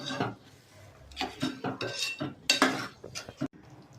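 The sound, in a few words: stirring spice masala into butter chicken in a pan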